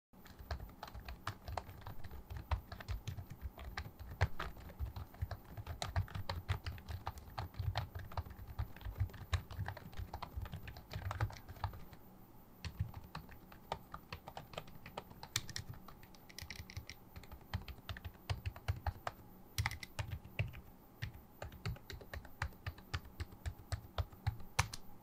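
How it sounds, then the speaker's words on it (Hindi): Typing on a Redragon K509 Dyaus 2 quiet low-profile membrane keyboard: soft, muffled key presses in a steady, fast stream of close clicks, continuing without speech. "कीबोर्ड मेम्ब्रेन टाइप होने की वजह से इसकी कीज ऑलमोस्ट साइलेंट हैं और इनकी साउंड हमारे साउंड टेस्ट में कुछ यूं है"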